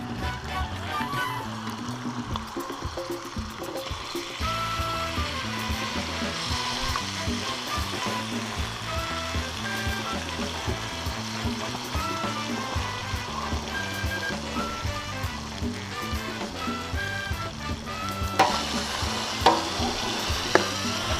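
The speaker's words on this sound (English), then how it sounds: "You can tell that our pork is browning up pretty good" Pork browns with chili paste in a pan, a continuous loud sizzle with frequent stirring clatter and scraping over the whole stretch, no speech.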